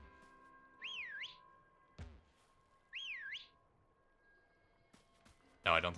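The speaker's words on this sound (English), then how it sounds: "Can I whistle at it and it..." In Pokémon Sword/Shield, the player character whistles at a Pokémon. A bright rising-and-falling whistle plays twice, about two seconds apart, between soft game thumps and a short burst of noise at the end.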